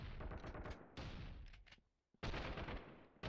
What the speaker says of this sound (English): Hear that shotgun in the background.